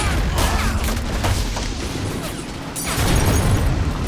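Battle noise in the World War II strategy game Men of War: Assault Squad, with dense overlapping gunshots, bangs and crashes forming a loud, continuous wash of combat.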